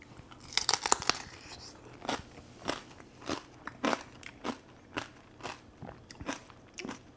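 Crisp lechon porchetta pork skin crunching as it is bitten and chewed up close, a loud snap at first followed by a regular series of crackly chews with no talking.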